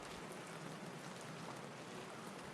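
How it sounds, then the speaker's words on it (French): Rain beating against a bedroom window pane, a soft, continuous patter of fine drops that stays even and fairly quiet from start to finish. "voilà la pluie qui frappe au carreau de la chambre."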